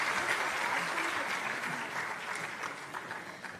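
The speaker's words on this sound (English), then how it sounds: "I would request a huge round of applause for this vision and for this thought." A large audience at a tourism summit and travel mart in Punjab gives a sustained round of applause, dense and steady throughout before gradually thinning toward the end.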